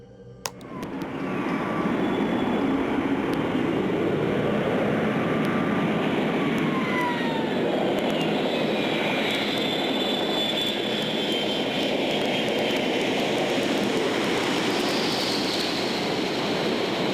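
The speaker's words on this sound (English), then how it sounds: "777 had to abort its takeoff, leading to a unique situation where the aircraft literally drifted across the runway" A Boeing 777 aborts its takeoff and skids sideways across the runway after a mechanical issue, its jet engines producing a sustained loud roar that builds quickly in the first second and holds steady with whining tones above.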